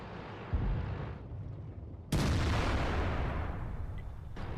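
An IS-6 heavy tank's cannon firing in World of Tanks: a sharp, loud blast cutting in at once over steady battle rumble, its roar trailing off slowly, with a smaller thump shortly before.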